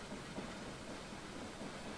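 A train in the Minecraft Immersive Railroading game rolls along the track, a faint, steady mechanical rumble with no talking.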